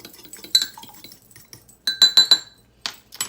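Spoon clinking against a bowl while eggs and shredded cheese are stirred, scattered light taps followed by a quick run of four bright clinks and a couple more near the end, close and clear, no talking.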